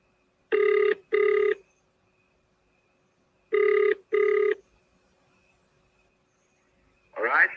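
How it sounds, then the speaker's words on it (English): A phone line rings back with two groups of double trill bursts, each pair close and clear with long silent gaps between them, and a short burst of speech comes at the end. "I'll just phone him again."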